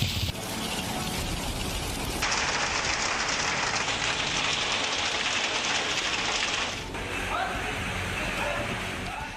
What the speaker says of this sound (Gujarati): છેલ્લા 2 દિવસથી વરસી રહેલો વરસાદ ચોમાસાની જેમ વરસી રહ્યો છે